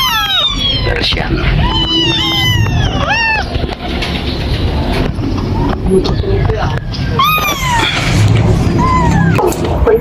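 A blind Persian cat gives several rising and falling meows, some in quick bursts, heard amid constant voices and rural farmyard background noise.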